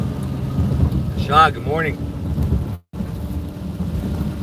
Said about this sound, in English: it's raining cats and dogs in Ohio, Cleveland area